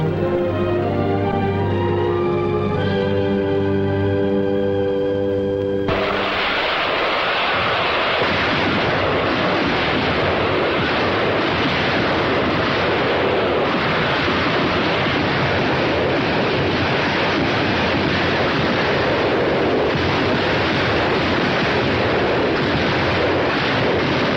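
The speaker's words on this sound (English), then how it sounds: "Marines prepare to fire multiple rocket launchers" Marine 4.5-inch multiple rocket launchers fire in Korea near Inchon, each unit loosing 24 rockets, and a rapid, roaring barrage of blasts runs on continuously. Before it starts, a few seconds of musical tones play.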